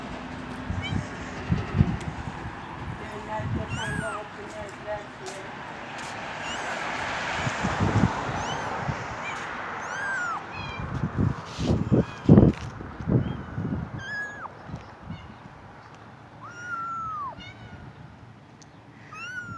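Street cats meow now and then across a noisy outdoor scene with wind and people talking during a holiday. Several short, rising cries stand out among the voices.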